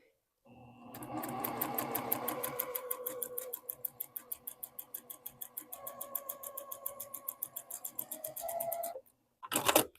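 A sewing machine stitches a snowball quilt block in a fast, steady run of needle strokes that pauses briefly near the end, then gives a short final burst, close and clear with no talking.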